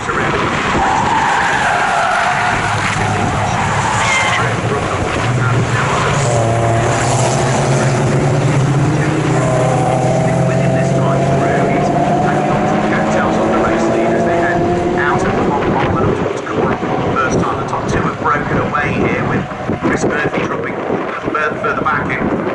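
BMW Z3 race cars, including 1.9-litre cars, racing at Snetterton, with several engines droning and rising through the gears as the pack passes close, tyres squealing and wind buffeting the mic, while a commentator talks over it.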